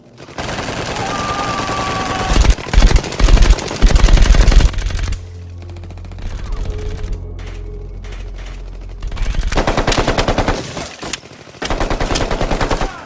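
A loud gunfight from the action film The Raid, with bursts of rapid automatic gunfire and single shots against a dense action soundtrack and a low rumbling lull midway.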